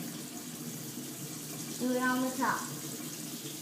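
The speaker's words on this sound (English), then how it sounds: "So I'm running it in hot water right now." Hot water runs steadily from a kitchen tap over a spatula while frosting a cake, a continuous hiss under a brief spoken voice.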